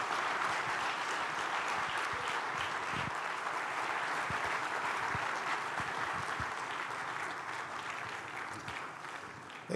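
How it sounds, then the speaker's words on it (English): Sustained audience applause rising steadily to welcome Bishop Matthew Hassan Kukah onto the stage at a public platform event, dense clapping from a large crowd continuing without pause. "Please join me with a warm applause as we welcome once again to the platform Nigeria Bishop Matthew Hassan Kukah"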